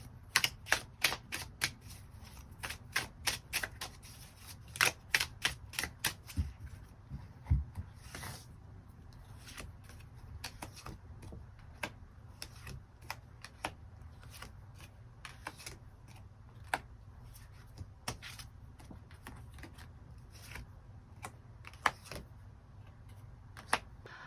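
Tarot cards being drawn and handled during a love reading, giving a run of crisp, close card snaps and flicks, densest at the start and then scattered through the rest over a low steady background hum.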